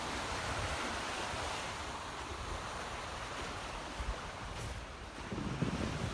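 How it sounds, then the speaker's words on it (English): Steady ocean surf washes continuously at Kaloko-Honokōhau National Historical Park in Hawaii, a broad rushing roar with wind noise buffeting the microphone, no voices. "relaxing, listen to some waves"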